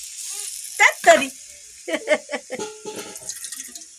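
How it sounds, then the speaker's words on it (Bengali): Water poured into a cooking pot for a fish curry, arriving in short splashing bursts and gurgles with quiet gaps between, fairly close. "এবার জল দিয়ে দেবো।"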